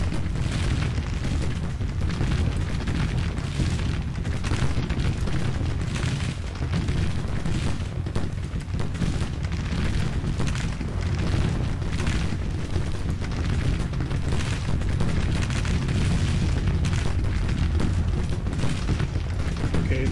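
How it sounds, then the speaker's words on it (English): Continuous, dense rumble of massed Civil War cannon fire in the Grand Tactician strategy game, booms overlapping into a loud, unbroken roar with no gaps. "This artillery is firing."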